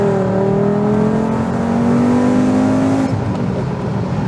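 A Volkswagen Golf VR5 engine revs hard with a rising harmonic whine, loud and sustained, then eases off and settles into a rough, throbbing idle.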